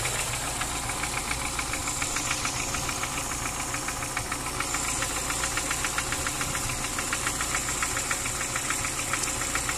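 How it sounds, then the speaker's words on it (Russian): VAZ 2103 engine idling steadily and loud throughout, with a faint rapid ticking from a worn generator bearing under the even running. "Сейчас я слышу только подшипник генератора, но он говорил, поклацывает слегка."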